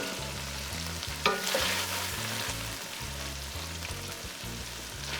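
Sausage browning in a pot, a constant dense frying crackle with one brief louder clatter near the start, a low steady hum running underneath, no one speaking.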